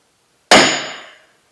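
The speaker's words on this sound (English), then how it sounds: "We're going to use a punch to locate our drill hole." A single sharp metallic strike of a punch marking a drill hole in metal, ringing and decaying over most of a second, close and loud against silence.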